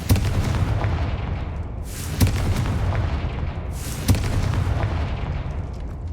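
In the Hogwarts Legacy video game, the Confringo fire spell sets off dense, rumbling blasts, with two sharp bursts standing out against a continuous roar of battle noise.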